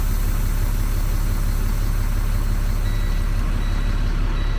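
A tractor-trailer truck with its tractor brake released during a tug test gives a steady, loud low engine rumble throughout, with faint high tones briefly near the end.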